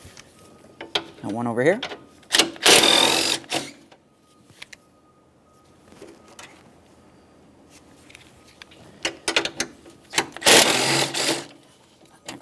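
Close ratcheting wrench clicks in bursts while 13mm mounting bolts are loosened from the radiator fan bracket of a 2009-2014 Nissan Maxima, with someone talking briefly between them.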